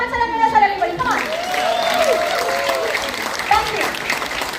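An office party crowd applauds, a steady spread of clapping with a voice talking over it and a short tonal vocal sound near the start.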